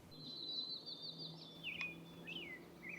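An eastern wood-pewee sings in a short coniferous forest, its thin, high, slurred whistles faint and distant over a quiet background.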